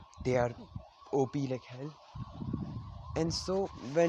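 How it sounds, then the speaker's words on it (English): An ambulance siren wails faintly in the distance, rising and falling under someone talking close by. "sorry for the siren, it's somewhere outside there."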